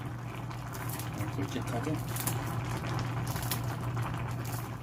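Fish stew with the fish heads simmering down in a pot, a low steady bubbling hiss running throughout while someone talks over it.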